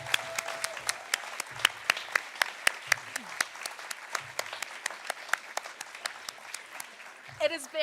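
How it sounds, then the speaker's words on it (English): A round of applause from an awards-evening audience at a 2023 youth work excellence ceremony: steady crowd clapping with a few louder individual claps standing out, continuing for several seconds, with faint talk near the end. "So we'll have one more round of applause for every single person who's come up here and spoken tonight and given out an award."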